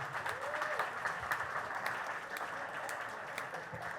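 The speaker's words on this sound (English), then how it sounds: "So please give them a round of applause." Guests at a wedding reception give the couple a steady round of applause, many hands clapping in a continuous, fairly distant wash at an even level.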